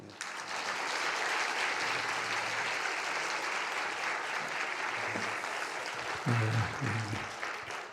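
A church congregation at a 118th-anniversary revival meeting applauds to welcome the pastor, with dense, steady clapping from many hands that lasts several seconds and swells slightly near the end.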